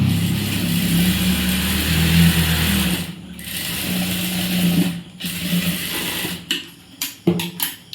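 A sewing machine stitching a blouse runs in quick mechanical bursts, whirring steadily for several seconds, pausing briefly, then starting again in shorter stop-start runs at close range with no voices.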